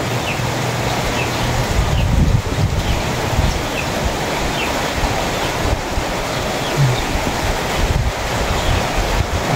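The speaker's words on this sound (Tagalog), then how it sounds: "Malakas po ang hangin." Strong gusts roar steadily across the microphone on the way to a rainy farm field, with a rushing, turbulent texture, like surf or heavy wind buffeting outdoors, with no voices.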